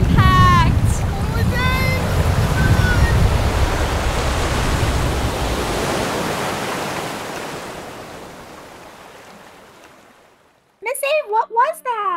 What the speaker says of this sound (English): I think we just witnessed a small tsunami.